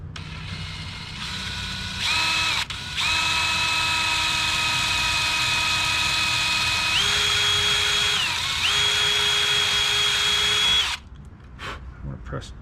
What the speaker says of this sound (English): So let's drill pilot hole.